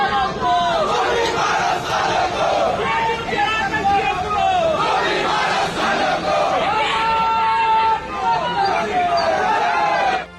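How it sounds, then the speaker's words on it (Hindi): A large protest crowd shouts slogans in loud, continuous massed chanting, with many voices rising and falling together in rhythmic waves for the whole stretch, close and dense with no pauses. "दरअसल यूजीसी के विरोध में यह भीड़ हुड़दंग मचा रही है"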